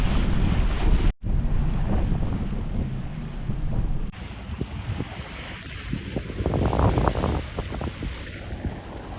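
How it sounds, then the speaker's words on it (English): A sailboat motors at about six knots on very little engine through ocean water near an inlet, with steady wind buffeting the microphone and waves washing against the hull, loud and continuous. "We're going 6 knots with just the tiniest bit of engine, getting ready to raise the sail."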